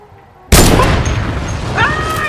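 A sniper rifle shot in Fortnite hits as one sudden loud boom with a long, roaring tail, following a quiet moment. A voice speaks faintly underneath.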